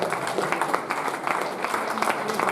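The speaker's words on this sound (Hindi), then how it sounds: "ये जोरदार तालियां हो जाए दोस्तों" A seminar audience in Varanasi applauds in a steady, dense wash of many hands clapping, moderately loud and continuous, with speech faintly mixed in.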